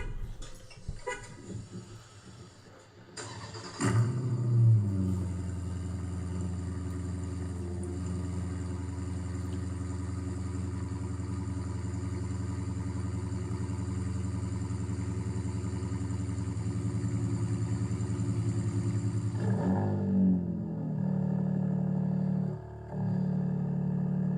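Dodge Charger engine running steadily for a long stretch, a low continuous rumbling drone close by, with a sharp rise near the start and another change near the end as the exhaust opens up.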